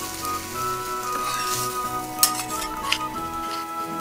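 Okonomiyaki fries on a tabletop iron griddle, giving an even, close crackling sizzle throughout, broken by a couple of sharp spatula taps.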